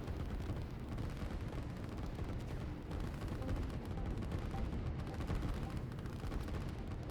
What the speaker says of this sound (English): And another bombing run